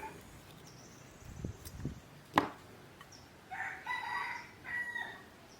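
Chickens kept at a rented house cluck and crow faintly at a distance, with a sharp knock partway through and a rising crow-like call near the end, all without speech.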